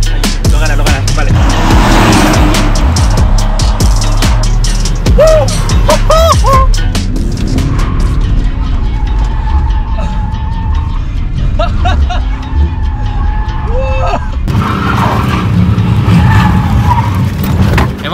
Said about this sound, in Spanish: Hemos visto que el BMW de Sad ha ganado y saliendo sí, desde parado